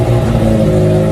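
A 1974–1977 Mazda Rotary pickup (REPU) engine revs steadily and loudly for a moment, its smooth rotary hum sustained close by without a break.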